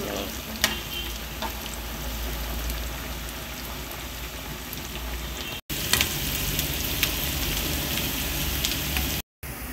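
Onions deep frying in oil in a pan for peanut rice, a steady dense sizzle and crackle with occasional sharper pops, close and continuous with no talking.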